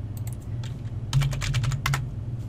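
Computer keyboard typing while building adjustable Tinkercad Codeblocks models, a brisk run of close, clicky keystrokes in short bursts with a slightly busier cluster partway through, no talking.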